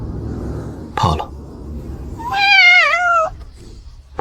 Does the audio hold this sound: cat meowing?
yes